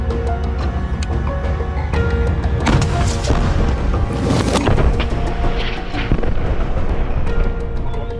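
Mortar rockets fired by Hamas fighters at Israeli soldiers near Rafah, heard as a series of booming launches and blasts over a dense, rumbling battlefield din.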